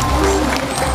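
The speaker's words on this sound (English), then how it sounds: "round of applause for Isis and Ida" Brief burst of audience applause at a sea lion show in Ocean Park, a steady patter of clapping across the whole moment.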